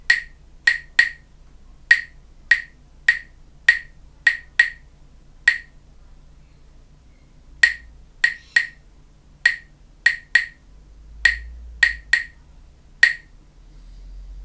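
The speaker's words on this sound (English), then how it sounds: "let's try clapping this rhythm" Crisp hand claps tap out a dotted quaver rhythm in compound time, about twenty sharp claps in grouped patterns with short pauses between phrases, close and clear against a quiet room.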